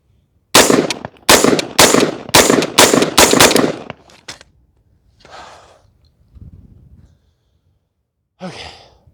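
AR-15 rifle with a standard 3-ounce carbine buffer, fired in a quick string of about six close, loud shots, followed by a few fainter, separate bursts and pauses.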